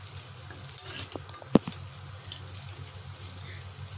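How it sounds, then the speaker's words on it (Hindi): Chowmein noodles with vegetables and peanuts stir-frying in a pan. A soft, steady sizzle runs throughout, broken by a few sharp clicks of the utensil near the middle. "सबको ऐड करने के बाद हम अच्छे से इसको थोड़ा देर हिल चलाते रहिएगा और थोड़ा हम इसको भून लेंगे।"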